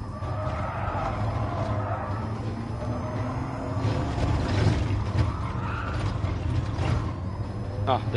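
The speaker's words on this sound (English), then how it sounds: "The chassis sounds are really good." Creaks, clunks and ratcheting rattles from the chassis of an electric Vision Gran Turismo car racing at the Nordschleife in Gran Turismo Sport, a steady mechanical clatter under a low hum with no engine roar.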